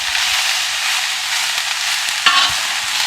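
Moo goo gai pan stir-frying in a pan gives a steady, close, bright sizzle that runs the whole time. A single sharp clank of a utensil on the pan cuts in near the end.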